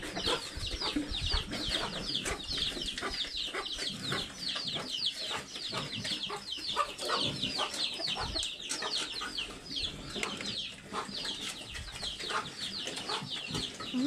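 Chickens on a pig farm clucking continuously with rapid overlapping calls, occasional wing flaps and rustling, moderately distant and fairly quiet throughout.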